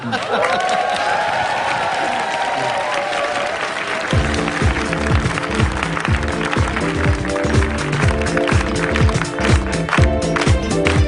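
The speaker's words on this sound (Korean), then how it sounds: "박수 소리도 뭐 지금 굉장히 간단한 거거든요" Applause from the studio audience at a live public broadcast of a morning news show. Steady clapping fills the whole stretch, and music with a beat comes in partway through.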